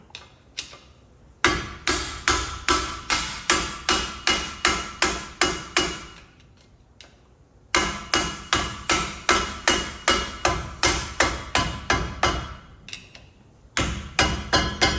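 A hammer strikes the rear axle of a 2015-2019 Ford Transit in long runs of evenly spaced, moderate metallic blows, close and loud, with short pauses between bursts and no talking.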